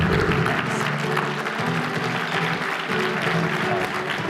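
Sustained audience applause at an education keynote as a guest is welcomed to the stage, dense and even clapping throughout with a faint murmur of voices.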